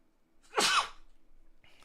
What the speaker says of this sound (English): Goodness, I can't stop sneezing